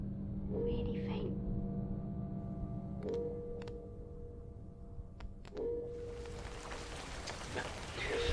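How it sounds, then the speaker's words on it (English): Rain at night in a dark audio-drama setting: a soft, broad hiss rises near the end, after faint drawn-out tonal cries and sharp ticks. "Rain."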